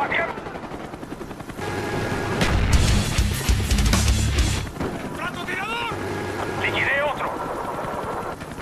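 A Cobra attack helicopter arrives in a multiplayer shooter match, its rotor thumping loud amid gunfire and explosions, with game voice announcements and talk over the top.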